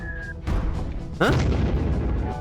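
Two deep booming cannon blasts in the video game Airborn Empire land about a second apart, the second heavier, each followed by a rumbling tail.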